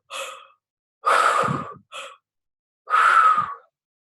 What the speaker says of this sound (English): so go ahead and do some deep breaths